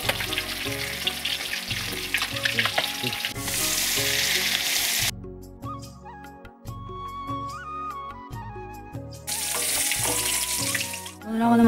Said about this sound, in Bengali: আমাদের মাছগুলো ভাজা হয়ে গেছে।